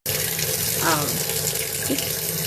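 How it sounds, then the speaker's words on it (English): A tap runs steadily into a sink while hands are lathered with a lemongrass and rosemary soap bar beneath it, a loud close unbroken rush of water with faint rubbing. "I can smell the lemongrass and rosemary in the soap as I am washing my hands."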